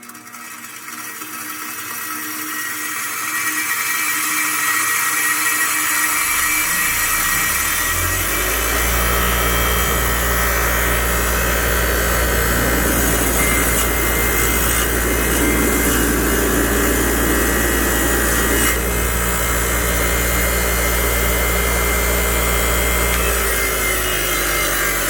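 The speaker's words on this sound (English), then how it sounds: "I'm gonna fire it up wide open here." A Hercules 8-inch bench grinder spins up from silence over several seconds to full speed, then holds a loud, steady whirring hum with a constant high whine for the rest of the run.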